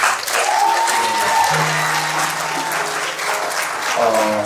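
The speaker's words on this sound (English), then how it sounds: "I just want to see how y'all's going to clap" A church congregation at a Sunday morning worship service breaks into loud, sustained applause that fills the room, with cheers rising through the clapping.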